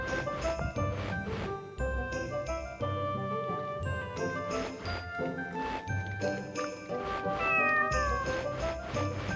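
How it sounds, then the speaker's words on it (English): A cat meows repeatedly in Tales of the Abyss, the cries mixed in with bright chiming game music and tinkling notes. "There's a cat."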